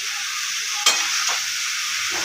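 Potatoes sizzle in a hot pan for a Bethua saag fry, with a couple of quick scraping stirs cutting through the steady frying hiss.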